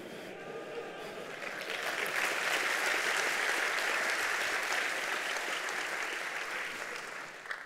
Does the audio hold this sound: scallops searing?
no